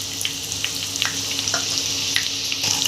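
Crushed garlic and dried red chillies fry in hot oil with curry leaves, cumin and mustard seeds for a tomato pickle. A close, steady sizzle runs throughout, with scattered crackles and pops from the spices.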